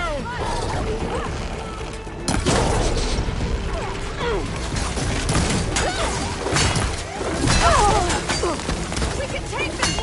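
Combat in Horizon Forbidden West as machines attack, with mechanical clanks, crashes and metallic impacts churning continuously at close range, while voices shout over the fighting.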